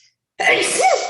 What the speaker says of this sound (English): I have a sneeze.